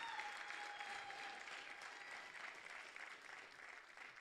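A church congregation applauds steadily, a dense wash of clapping that stays even and moderately distant throughout with a faint tone in the background.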